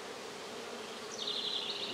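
Honey bees buzz in a dense, steady drone while a hive is opened for inspection after smoking, with one louder bee whining close by toward the end; no talking.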